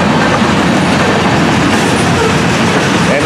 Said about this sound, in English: And this train, 109, needed permission on the side track.